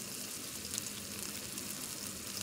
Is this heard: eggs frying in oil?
yes